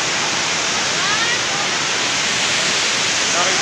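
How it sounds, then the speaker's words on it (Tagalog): Strong rushing water pours at Wawa Dam, a loud, constant roar of falls close by that fills the whole stretch without a break. "Lakas na yung dagis-dagis ng tubig"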